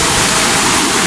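A strong mountain stream rushes past close by, a loud, dense, unbroken roar of churning water with no voices.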